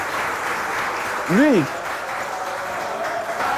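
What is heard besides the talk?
audience applause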